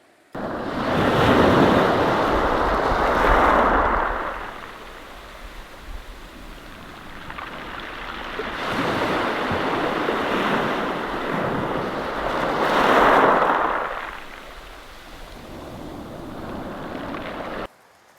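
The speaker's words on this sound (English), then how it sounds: "this is a UK beach on the south coast" Waves breaking and washing up a UK south coast beach in winter, two big surges rising and fading over steady wind rumble, fairly close and loud with no voices.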